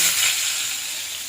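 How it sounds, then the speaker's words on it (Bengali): Shrimp frying in hot oil in a kadai gives a loud, steady hiss and sizzle that eases slightly over the span, with no voices over it. "তো এবার আমি চিংড়ি মাছটা অল্প অল্প করে কড়াইয়ের মধ্যে দিয়ে ভেজে নেব।"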